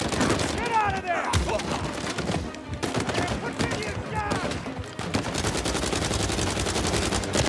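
Enemy gunfire in the video game Uncharted 4, sharp bursts of shots crackling throughout amid game music and effects, with a voice speaking over the firing.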